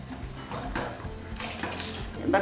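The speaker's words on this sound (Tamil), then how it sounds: "இன்னும் கொஞ்சம் தண்ணி ஊற்றிடலாம்" Water pours steadily into a pot of fish curry (meen kulambu) being cooked, with a continuous splashing rush, ending in a faint metallic clink.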